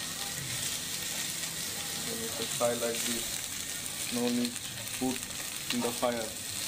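Soft sizzling and crackling from spices frying in a hot pan, low and steady, with faint scraping of stirring throughout.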